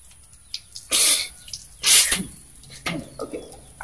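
Sharp sniffing bursts as water is snorted up into the nose while washing for wudhu, two strong noisy inhalations followed by fainter splashes and drips close to the listener.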